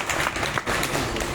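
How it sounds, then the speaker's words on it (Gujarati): Crowd at a political rally in Jamnagar giving loud, sustained applause, a dense wash of clapping that carries on steadily from start to finish. "બે ભાઈઓ માટે જોરદાર તાળી"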